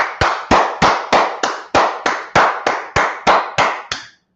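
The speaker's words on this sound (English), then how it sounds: "Let's clap it up for the Lord." Twelve sharp, evenly spaced claps ring out in a steady rhythm, loud and close, with no voices over them, as a gathering claps for the Lord in Yonkers, New York.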